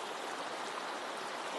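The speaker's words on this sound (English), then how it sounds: "lush green forest, and many tributaries of the Noyal River flowing" Tributaries of the Noyal River flow through lush green forest at the Velliangiri foothills after the monsoon, a steady faint distant rushing wash with no voices.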